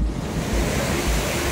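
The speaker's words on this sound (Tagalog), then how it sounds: "Kaya napakalakas raw ng ragasa ng tubig dito ngayon." Rushing water of Abungan Falls in Dingalan, Aurora, swollen by rainy weather, a dense continuous roar with gusting wind buffeting the microphone, loud and close with no break.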